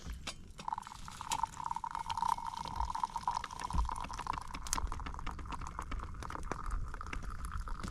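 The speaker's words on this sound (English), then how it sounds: "This is the 2-stick pour method." Liquid poured into a cup outdoors at a beach bonfire using the two-stick pour method, a steady trickle with a bright ringing tone under scattered knocks and clicks, no voices heard.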